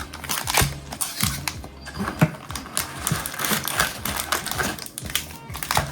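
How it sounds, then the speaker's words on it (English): One Piece OP-12 trading cards are shuffled by hand, giving a quick, irregular patter of soft card slaps and riffles close up, with no talking. "give them a shuffle"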